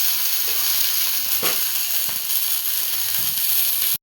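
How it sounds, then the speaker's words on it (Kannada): Sweet corn fries in a pan with a steady, bright sizzling hiss, close and continuous, with faint stirring clicks underneath. "ಸ್ವೀಟ್ ಕಾರ್ನ್ ಹಾಕ್ಕೊಂಡು ಸ್ವಲ್ಪ ಫ್ರೈ ಮಾಡ್ಕೊಂಡು ಹಾಗೆ ಸ್ವಲ್ಪ ಫ್ರೈ ಆಗಬೇಕು."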